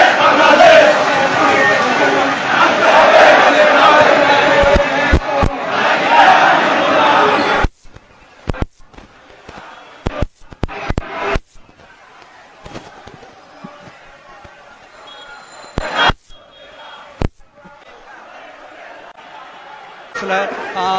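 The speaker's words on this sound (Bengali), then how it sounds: "স্লোগান মুখরিত" A dense, loud crowd chants slogans at a Jamaat political rally on a road in Chittagong, a sustained roar that cuts off abruptly midway and is followed by scattered sharp bangs and thin background noise.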